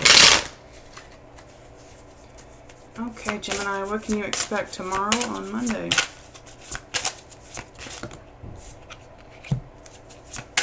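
Tarot cards are shuffled close up in quick riffles and taps, with a person speaking over part of the shuffling.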